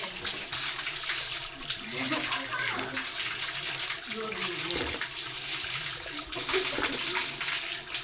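Water flowing steadily from the spring at Antaragange temple, a constant rushing splash close by with people talking faintly over it.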